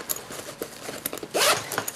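A zipper on a large pocket of a Maxpedition Falcon II backpack is pulled open in a few quick, close rasping bursts, ending in one longer loud zip.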